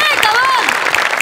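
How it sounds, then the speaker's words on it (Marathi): Audience applause on a Marathi comedy sketch show stage, a short burst of clapping mixed with music and cheers, with tonal sounds sweeping over the crowd noise. "आणि त्यासाठी या डिटेलिंगसाठी खूप खूप खूप टाळ्या"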